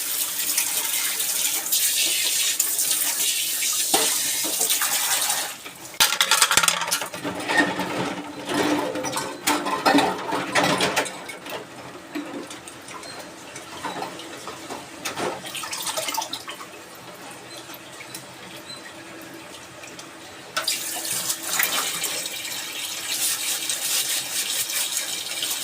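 Tap water running and splashing in a kitchen sink while dishes are scrubbed and rinsed, the gush starting and stopping in several bursts with quieter clinking pauses between.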